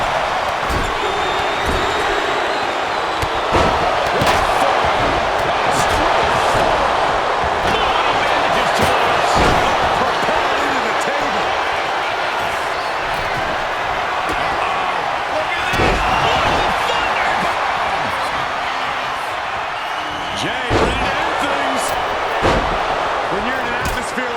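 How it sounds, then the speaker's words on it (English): A loud, dense crowd roar from a WWE 2K25 wrestling match, with sharp impact slams and a commentator talking over the steady cheering throughout. "When you can't hear yourself think because the crowd's so loud"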